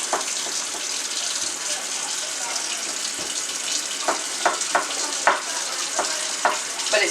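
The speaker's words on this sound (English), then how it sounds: "now I'm just going to turn my hot water on, and I want it to get good and hot" Hot water runs steadily from a kitchen tap while flour tortillas are being made, a continuous broadband hiss with a few sharper clinks and splashes near the end.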